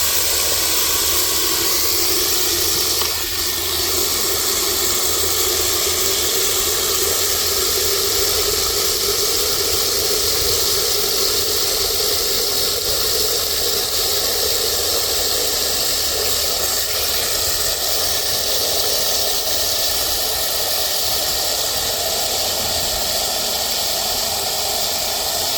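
Water pours steadily into a container during morning farm chores, a loud, unbroken rushing hiss heard up close with a faint tone that slowly rises as the vessel fills, no voices over it.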